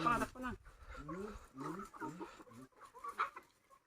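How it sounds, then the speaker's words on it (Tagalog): Chickens clucking close by in short, repeated bursts, with people talking over them. "Dami niyang alaga manok"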